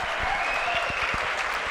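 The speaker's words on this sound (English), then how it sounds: "That one brought the crowd to its feet." A pickleball crowd applauds and cheers loudly and steadily after a point, dense clapping filling the whole moment.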